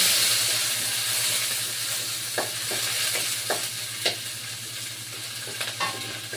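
Garlic and onion fry in a pan on a lowered flame, giving off a continuous sizzling hiss and a steady low hum, while a spatula taps and stirs now and then, with no talking.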